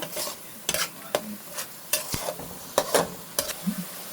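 Spice paste frying in hot oil in a pan for a carp curry, a steady sizzle broken by repeated sharp scrapes and stirs of a spatula, close and loud, with no voices.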